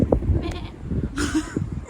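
A person imitating a goat's bleat, a couple of wavering, nasal calls close to the microphone.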